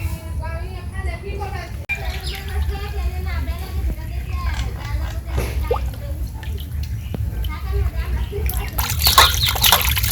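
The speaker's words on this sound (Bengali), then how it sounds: "মাছগুলো ভালো করে ধুয়ে নিলাম" Fish being washed in water in a village kitchen, steady sloshing and dripping with splashes, close, with a voice talking over it throughout.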